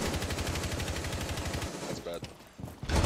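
Rapid automatic gunfire from the Rainbow Six Siege video game, a dense steady burst of evenly spaced shots for about a second and a half, then a few scattered shots and a final blast, with players talking.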